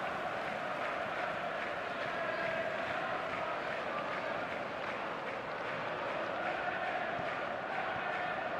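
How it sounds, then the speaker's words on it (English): In an eFootball video game, a stadium crowd keeps up a continuous, even roar of murmuring and cheering that holds at a moderate level throughout. "there's a real sense that the momentum has shifted here, Peter, and the crowd are reacting to that now."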